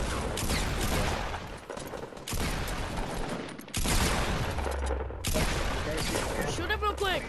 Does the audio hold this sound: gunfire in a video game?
yes